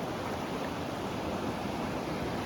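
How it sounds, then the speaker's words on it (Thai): Fast-moving water rushes through a narrow, rocky stretch of the Mekong River rapids, a steady, dense roar of flow that fills the whole moment without a break or any voices. "น้ำไหลเชี่ยว"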